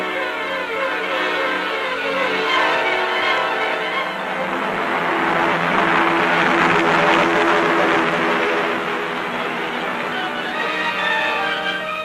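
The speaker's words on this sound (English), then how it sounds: "they board giant United States transport planes to seize an important military objective in Tunisia" Engines of giant United States military transport planes droning steadily in flight, a dense, continuous roar with a slow swell in the middle, loud and close, with no voices.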